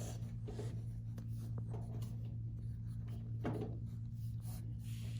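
Pencil scratching on paper as a young student writes out a subtraction problem in vertical form during a classroom math lesson, a steady soft rubbing over a constant low hum with occasional light taps.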